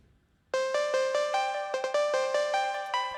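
Another synth lead stutter pattern starting after a brief quiet moment, crisp staccato notes in a steady pulse with a quick doubled flutter partway, close and clear, no talking.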